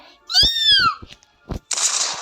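A loud, drawn-out cat meow in the video game Roblox rises and falls, followed by short clicks and a burst of hissy noise.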